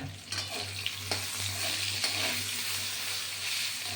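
Raw banana slices fry in a pan with a continuous, moderate sizzle and a few scraping stirs, heard alone under a low steady hum.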